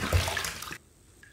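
Tap water running briefly to rinse after a shave with a razor, a short close splashing gush that cuts off abruptly under a second in.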